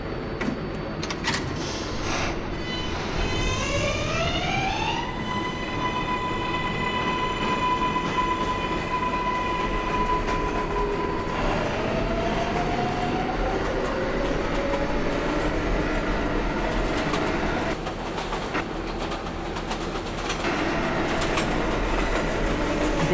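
An R142A 6 subway train runs toward Brooklyn Bridge, its electric motors whining up in rising tones as it accelerates, over a steady loud rumble of wheels on track that continues throughout.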